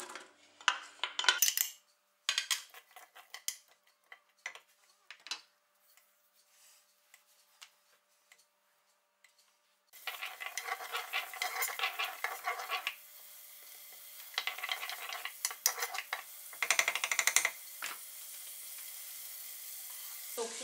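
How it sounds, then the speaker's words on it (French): Sliced onions fry in olive oil inside a Cookeo multicooker. Sparse clinks and taps give way midway to a steady, close sizzle with intermittent stirring scrapes. "je fais chauffer l'huile d'olive et je vais rajouter mes oignons émincés pour les faire"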